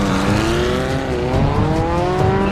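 An engine drones with a rising, sustained pitch during a motorcycle chase in the Prison Break drama series, loud and close with steady rumble underneath.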